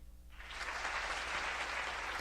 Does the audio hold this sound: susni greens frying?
no